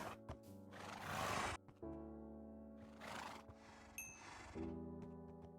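Horses neighing in Minecraft, two long whinnies a couple of seconds apart with a few short snorts and thuds between, clear and alone with no talk.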